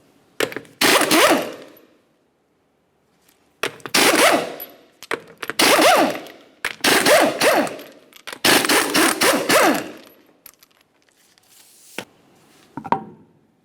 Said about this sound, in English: We'll do that by removing all 5 of our 21mm lug nuts and then the wheel.